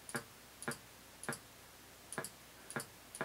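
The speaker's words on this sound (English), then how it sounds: "Those are my bongos." Synthesized bongo hits from a MIDI-driven SID chip synth: short, clicky two-note pairs of bright percussive taps repeating in a loose rhythm, fairly quiet and dry with no voices.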